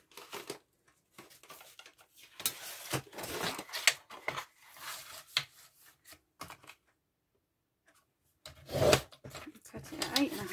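Paper trimmer slicing cardstock, heard as short rasping slides and clicks in bursts, with a person talking around the cuts.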